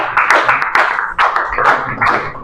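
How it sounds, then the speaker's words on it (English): A class of students at Anupam Vidya Sadan school applauds a classmate: a brief, close, dense patter of many hands clapping together, with no talking over it. "Okay, give a big round of applause to Karuna once again."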